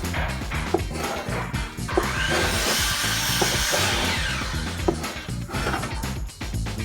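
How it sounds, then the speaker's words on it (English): A scraper drags bubbled paint stripper off a stained wooden door, making loud, steady rasping with rhythmic strokes, heard close and alone. "take a scraper and go ahead, and you can see how this stuff's bubbled up. All you've got to do is scrape it off."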